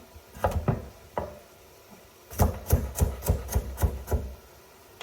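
Carrots chopped with a knife on a board while making kale and sausage soup, a few scattered cuts and then a quick run of about eight crisp, evenly spaced chops, close and clear with no talk.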